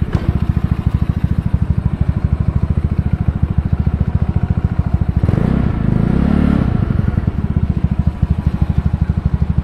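A tuned Mio 155cc motor scooter engine rumbles close by in a rapid, steady idle-like putter, then revs up briefly into a louder surge for about two seconds before settling back to the same chugging beat.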